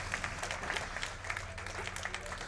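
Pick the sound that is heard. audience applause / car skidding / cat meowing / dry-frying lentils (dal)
audience applause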